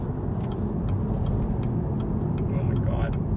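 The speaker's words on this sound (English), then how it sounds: "The engine sounds pretty nice." A car engine running steadily while driving, a continuous low rumble with road noise filling the cabin throughout.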